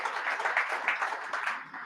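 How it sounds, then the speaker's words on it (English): Audience applause at a state and national service symposium: a brief, faint patter of clapping from a crowd, heard at a distance for just under two seconds. "yes, that does deserve an applause"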